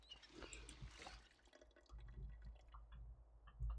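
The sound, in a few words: water filling a flask and bucket in video game Project Zomboid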